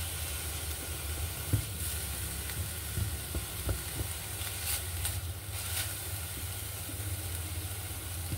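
Mung beans stir-fried in a pan for sticky rice give a low steady sizzle with occasional soft scrapes and clicks of stirring, moderately quiet and continuous, no talking.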